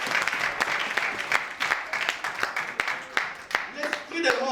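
A church congregation breaks into sustained applause and cheering, dense, fairly loud clapping that carries steadily through the moment with no clear speech.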